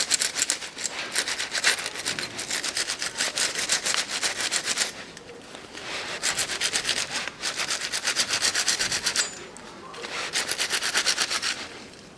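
A wire brush scrubs dirt off the front brake caliper bracket of a 2013 Mitsubishi ASX 1.8 in rapid, harsh back-and-forth strokes, loud and close, in several bursts with brief pauses.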